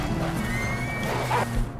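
A horse whinnies in Red Dead Redemption 2, one drawn-out neigh that is close and clear over the game's steady background sound.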